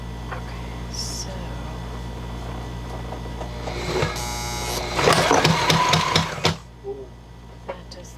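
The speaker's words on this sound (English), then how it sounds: "I was sewing my test piece to adjust the tension" A sewing machine stitches a test piece of sailboat dodger fabric, a steady mechanical run building to a louder, busier burst of rapid stitching before stopping abruptly, with brief sounds after.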